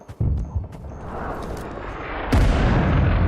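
Gunfire in the Vietnam War shooter Rising Storm 2: Vietnam, with loud, heavy booming bursts and rumbling echoes close by, a sharp shot near the start and another near the end.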